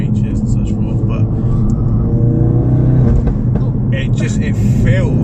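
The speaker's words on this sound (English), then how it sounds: "I don't know if you can hear the noise from the exhaust" Inside a Ford Focus RS Mk3 with a 2.3 EcoBoost engine, a loud, low exhaust drone fills the cabin while people talk over it throughout.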